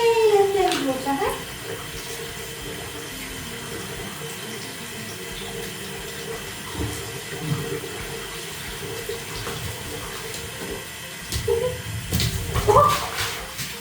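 Water runs steadily from a tap into a tub while a rabbit gets a bath at home, a broad continuous wash with splashes and bumps near the start and end.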